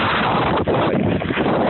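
Strong wind in a snowstorm gusting hard against the microphone, a loud, steady broadband roar with no talking.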